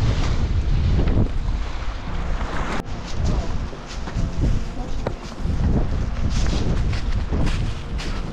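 Strong wind buffets the microphone while a canoe is paddled on a lake in Algonquin in November, a continuous rumbling roar with gusty swells and faint water sounds beneath.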